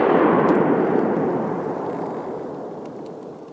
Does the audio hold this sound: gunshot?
yes